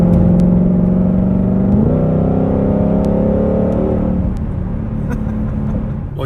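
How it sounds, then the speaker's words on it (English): A 2020 Shelby GT500 with a loud V8 and a seven-speed dual-clutch transmission accelerates hard, its engine drone rising in pitch, briefly dipping at a gearshift, then climbing again before easing off. "it's a savage, powerful, loud V8 engine"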